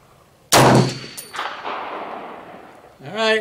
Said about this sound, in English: let's take our first shot here and see where it goes.